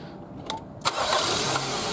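A car engine cranks briefly and catches during a starter test with a KONNWEI KW 218 battery, alternator and starter tester, then settles into a steady running roar.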